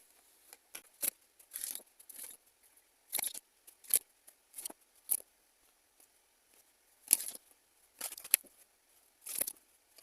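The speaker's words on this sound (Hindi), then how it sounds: "चलिए कुछ कार्ड्स लेते हैं।" Tarot cards are shuffled and drawn by hand, producing soft, close, scattered bursts of crisp card flicks and rustles separated by quiet gaps.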